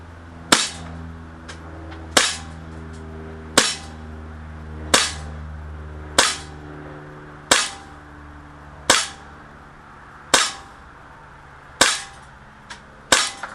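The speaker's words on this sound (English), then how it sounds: "We're just going to shoot." Gunshots fired at a steady pace during a firearms training session, about ten sharp, loud cracks spaced roughly 1.5 seconds apart over a low steady hum, with no talking.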